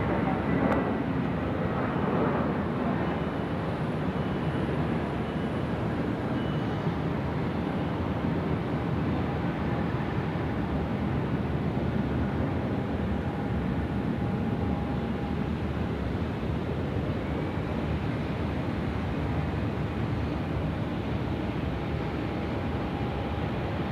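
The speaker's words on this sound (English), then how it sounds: "the Boeing 787 from Shanghai Airlines is now looking for a departure. Runway 34 left, here we go." A Shanghai Airlines Boeing 787 taking off from runway 34 left at Sydney Airport, a steady broadband engine roar held at an even level for the whole stretch, distant and unbroken.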